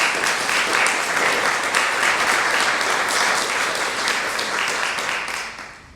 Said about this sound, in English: Would you please give him a round of applause?